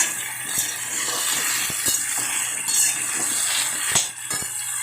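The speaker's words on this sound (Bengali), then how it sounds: "আলুগুলো কিন্তু আমি পটলের মতনই লাল লাল করে একদম পুরো ভেজে নেবো" Potatoes deep-frying in oil in a pan, cooked until red-brown: a continuous bright hiss and sizzle with scattered pops and clicks, close and steady, with no talking.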